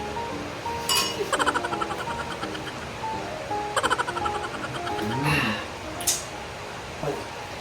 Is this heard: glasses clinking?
yes